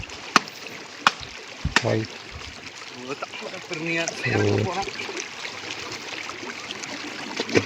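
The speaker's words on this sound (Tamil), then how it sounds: "துவைக்கிற சவுண்டு வந்து கேட்குது" Clothes scrubbed and slapped by hand in water at a bathing spot, a few sharp wet slaps and splashy trickling under steady nearby conversation.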